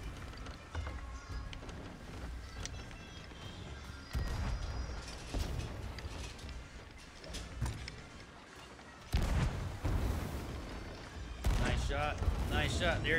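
Ship cannons fire in the pirate video game Sea of Thieves, heavy booms landing among game sounds of sea and creaking, with several loud blasts spread across the stretch and players talking over it throughout.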